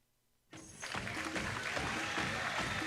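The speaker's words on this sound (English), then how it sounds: "You can hear the crowd applauding for her" At a girls' high school basketball game, DCA versus Danville in the All-A tournament, the crowd in the gym starts applauding an injured player; after a brief quiet moment, steady, somewhat distant clapping rises and continues.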